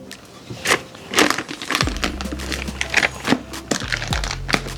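Stiff buttercream is stirred in a bowl, making close, irregular scraping and thick clicking strokes, with a low rumble entering partway through.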